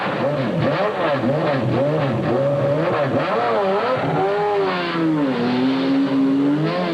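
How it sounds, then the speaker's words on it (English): A Jaguar race car's engine wails steadily during the 1988 Le Mans 24-hour endurance race, loud and close, rising and falling through gear changes and then settling into a sustained high drone. "2 hours into the race, Price Cobb takes the wheel in Jaguar's car 21."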